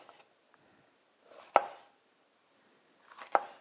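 Two sharp thuds of a new knife chopping on a cutting board, spaced about two seconds apart, close and crisp in a quiet room, with no talking.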